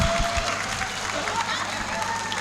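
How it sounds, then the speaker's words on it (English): Audience applause at a TOEFL seminar, a steady wash of clapping that fills the clip at moderate level, with voices murmuring underneath. "Okay, big applause."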